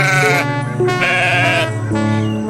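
Goat bleat in an animated Hindi moral story, a long harmonic wavering cry with several rising pulses, loud and close with no talk over it.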